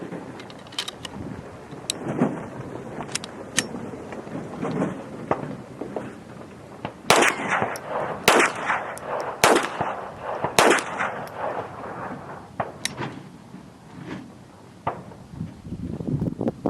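.22 rifle firing Winchester High Velocity rounds outdoors, heard as about ten sharp loud cracks at irregular spacing, with some wind noise between shots.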